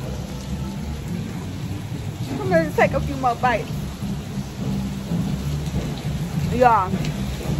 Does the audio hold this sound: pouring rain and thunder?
yes